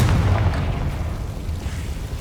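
Confringo blasting spell in Hogwarts Legacy: a dense, rumbling explosion that booms loudly at first, then rolls on as a broad, sustained roar that slowly fades without a clear tail.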